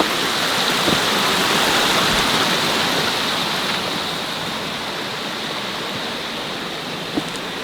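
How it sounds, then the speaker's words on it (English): Snowmelt streams rush steadily near an old mine bunkhouse in a forested spot, a loud, continuous broadband water roar with no voices, easing slightly partway through. "There's three streams going through, so they definitely would have had a sustainable water source."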